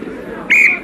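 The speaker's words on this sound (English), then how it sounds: "Wait for the whistle." A referee's whistle at an under-19 Jamaica versus Trinidad and Tobago rugby match gives one sharp, loud blast lasting about a quarter second, rising over faint crowd murmur.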